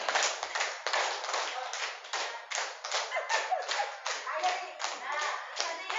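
A group claps hands in a counting rhythm game during a teacher training session, repeated bursts of close, sharp claps with brief gaps between rounds and soft voices around them.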